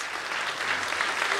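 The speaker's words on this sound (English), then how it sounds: "Give him a big round of applause." Audience applause at a conference, welcoming the next speaker to the stage: a steady, dense wash of clapping that holds evenly for the whole brief moment, with no voices on top.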